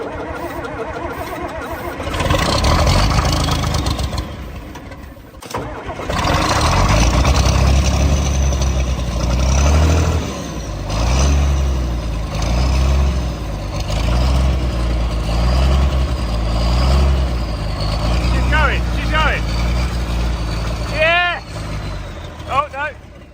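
A John Deere 4440 farm tractor engine cranks and catches, then runs loud and close under some throttle with a pulsing, throbbing rumble, while people talk over it.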